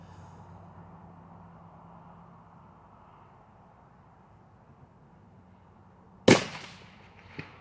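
A single Mossberg Patriot LR Tactical rifle shot fired at a frozen turkey 300 yards away outdoors, one sharp loud crack after a quiet stretch, followed by a fainter second report.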